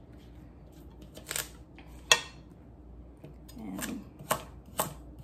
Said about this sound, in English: I'm just gonna cut my carrot in half.